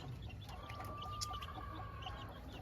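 Young chicks and a likely young rooster cluck and peep softly nearby, with a thin sustained chirp standing out over faint barnyard background.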